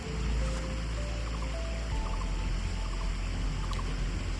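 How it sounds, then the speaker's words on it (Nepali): A small stream babbles through a botanical garden, a steady wash of running water heard alone with a few faint tonal bird calls above it. "पानीको कलकल बगेको सानो खोला छ होइन, कस्तो मिठो आवाज छ"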